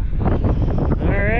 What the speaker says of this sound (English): It's a little windy on the lake today, but we're making it work.